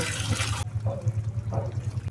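Yakhni stock pours from a vessel into a large pot for beef pulao, starting with a loud splashing rush that cuts off abruptly, followed by softer sloshing under a low steady hum.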